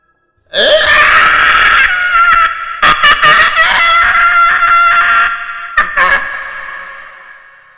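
A loud, shrill, wavering shriek from a manananggal, a Filipino folklore creature, in pain after saltwater hits its wings, erupts after a brief silence, sustained with sharp bursts and breaks, then gradually fading.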